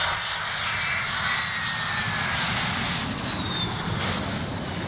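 A jet airplane flies over an air force base, a loud, steady roar with a thin whining tone that slowly drops in pitch, continuing without a break and with no talking.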